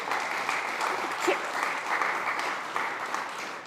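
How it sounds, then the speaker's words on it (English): Audience applause at a food conference session at SXSW, a steady moderate round of clapping from a room crowd, heard at some distance throughout. "please give a round of applause."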